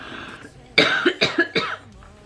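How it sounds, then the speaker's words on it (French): Three quick, harsh coughs in a row, close and loud, with a breathy start just before. "Je risque de beaucoup tousser encore une fois."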